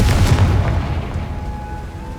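A Confringo spell explosion in Hogwarts Legacy bursts as one loud, deep boom up close, then rumbles and fades over about two seconds.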